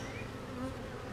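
Honey bees hum and buzz inside a defensive hive, a dense, steady drone close by that holds at an even level with no talking over it.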